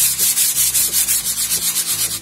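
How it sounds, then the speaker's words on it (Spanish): A sanding block rubs over a wooden coat rack by hand in steady back-and-forth strokes, about a dozen loud, even passes with no talking. "voy a darle una pequeña lijadita para retirar los posibles excesos que tenga. Con una lija, un taco de lija normal y corriente."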